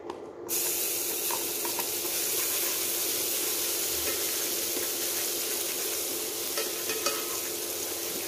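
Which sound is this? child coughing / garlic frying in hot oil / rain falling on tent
garlic frying in hot oil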